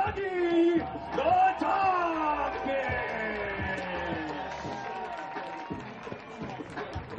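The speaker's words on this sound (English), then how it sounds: "You see Dougie responding to a roar of the crowd." Stadium crowd at a Dogfish home football game roaring and yelling loudly, with cheers and whoops building over a dense, sustained wash of noise.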